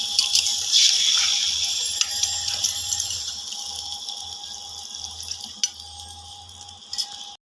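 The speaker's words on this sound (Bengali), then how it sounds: "জল দিয়ে দেবো" Water is poured into a hot pan of Rohu fish curry cooked in mustard oil, giving a steady hissing, bubbling wash that gradually settles, with a few clinks near the end.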